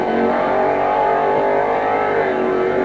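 A car on a drag strip at Long Marston in 1986 roaring loudly and continuously, close and strained, an engine note held at high revs throughout.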